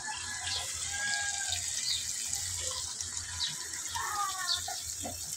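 Drinking water runs from a tap into a container in a home kitchen, a steady trickling, splashing flow throughout, with faint background sounds around it.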